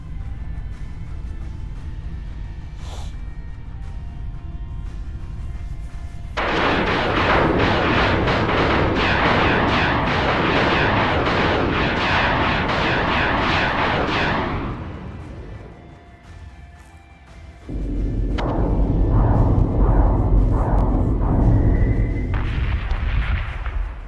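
Rapid flak cannon fire from a battlestar in the space combat game Battlestar Galactica Deadlock, loud dense bursts of booming shots in long sustained volleys with brief pauses between, close and continuous.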